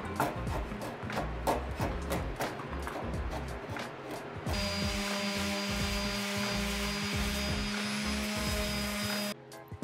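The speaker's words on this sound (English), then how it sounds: "finished that off with a sander to get it smooth" An electric sander runs continuously on a wooden coffee table, with a steady buzzing whine, abrasive rubbing and scraping against wood, loud and close, then cuts off.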